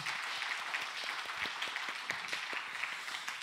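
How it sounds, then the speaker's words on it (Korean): A church congregation applauds during a Sunday afternoon service, a dense, steady wash of many hands clapping at once with scattered sharper claps standing out, sustained evenly throughout. "다시 한번 격려 박수 한번 해주시죠."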